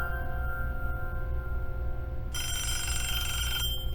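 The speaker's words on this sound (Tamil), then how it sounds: "இப்போ யாரோ நமக்கு ஃபோன் பண்றாங்க." A telephone rings inside the Who's at the Door horror video game, a steady electronic ring that swells brighter partway through over a constant low game hum, with no voices.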